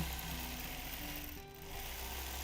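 A sewing machine doing free-motion quilting, its needle running in a rapid, steady mechanical chatter that dips briefly midway before resuming at full pace, close and continuous.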